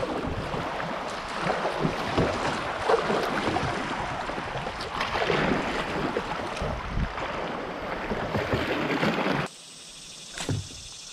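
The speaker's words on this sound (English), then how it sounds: "Want to square up right and hit these rapids." A kayak running small rapids on a fast-flowing river, with steady rushing, churning water and wind buffeting close by for most of the time before it cuts off abruptly near the end.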